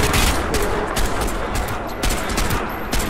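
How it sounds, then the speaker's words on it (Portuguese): Rapid bursts of automatic gunfire in the shooter game Crysis 2, loud and close, with several sharp volleys punctuating a continuous rattle and no talk over it. "Muito tiro aqui."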